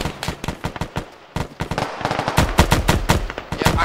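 Automatic machine-gun fire lays down suppressing fire in the Arma military video game, rapid bursts of loud, close shots with short gaps between volleys, growing denser toward the end.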